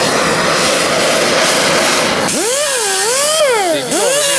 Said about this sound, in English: so we got the old propane torch